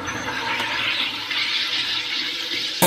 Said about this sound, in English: here we have a fizzy drink machine. This machine has a gas canister filled with carbon dioxide and it pushes the gas inside of the water